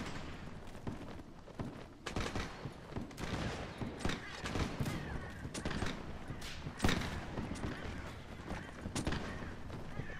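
Repeated musket volleys crack and rumble in a Napoleonic-era battle in Mount&Blade: L'aigle, dense overlapping shots rolling steadily for the whole stretch with a heavier burst near the end.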